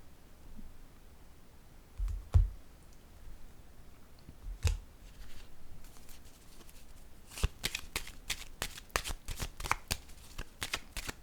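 Tarot cards are handled, with a few soft taps and snaps early on, then a quick run of crisp riffling clicks toward the end, close and fairly quiet, with no talk.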